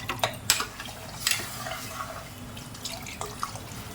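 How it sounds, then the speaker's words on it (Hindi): Water poured and splashing into a pressure cooker pot for a vegetable macaroni daliya soup, a steady close trickle with a few sharp drips and clinks, no talking. "अब इसको मैं पानी डाल के इसको सीटी लगाती हूँ।"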